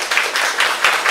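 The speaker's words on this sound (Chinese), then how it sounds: "那我们就来热烈掌声欢迎李冠颖李老师" Warm applause from a seated audience at a university faculty teaching workshop, welcoming a lecturer to the stage; steady dense clapping with slight swells, close and continuous, no voices over it.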